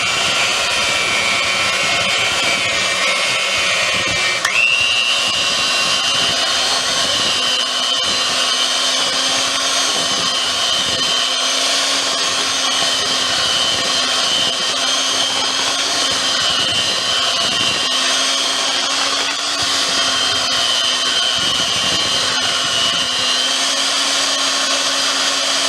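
Electric mixer beating toaster biscuit batter until smooth, a loud steady whir that holds for the whole stretch, shifting pitch slightly now and then, with no talking.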